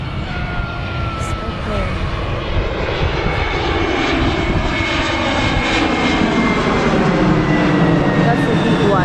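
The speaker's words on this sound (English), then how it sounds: "there's a plane approaching because the airport is very near here" A large fixed-wing airliner on approach to a nearby airport over Playa d'en Bossa beach in Ibiza roars steadily overhead, its loud engine drone sweeping in pitch across the whole stretch, with faint voices beneath.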